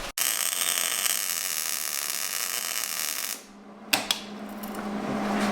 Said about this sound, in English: weld our new piece on right there. Yeah, let's get it tacked up